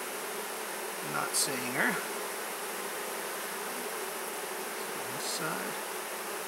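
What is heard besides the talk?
honey bees buzzing during hive inspection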